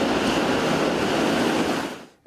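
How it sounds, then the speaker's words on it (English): Waves roll in steadily as a dense, loud wash of surf noise, broad and continuous before dropping away abruptly at the end, with no voices heard. "now the waves are beautiful"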